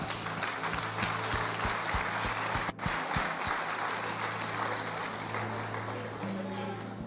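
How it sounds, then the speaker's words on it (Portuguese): A church congregation applauds, a dense, steady wash of clapping from many hands that continues throughout, with faint voices mixed in. "Vamos aplaudir o Senhor."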